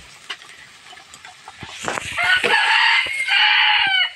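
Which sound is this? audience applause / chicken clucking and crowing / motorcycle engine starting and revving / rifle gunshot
chicken clucking and crowing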